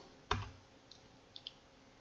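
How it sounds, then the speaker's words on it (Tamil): A computer keyboard's Enter key is pressed once in a sharp, close click, followed by a couple of faint lighter key taps in a quiet room. "எக்ஸ்ன்னு டைப் பண்ணிவிட்டு என்டர் பட்டனை ப்ரெஸ் பண்ணுறேன்."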